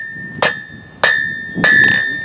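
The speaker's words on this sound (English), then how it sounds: "I'm going to lay it on the anvil" Three loud, ringing metallic hammer blows on hot metal on an anvil, spaced about half a second apart, each followed by a lingering tone.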